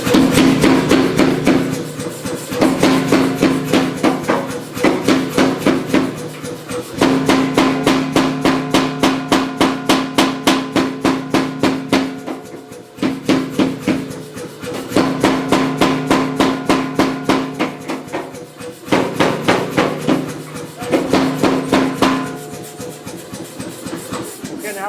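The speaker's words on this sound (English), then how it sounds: "Now I'm going to the power hammer and start forging it." Power hammer forging a steel tool, delivering rapid, loud, evenly spaced blows in repeated runs of a few seconds each, separated by short pauses, with a steady machine hum underneath.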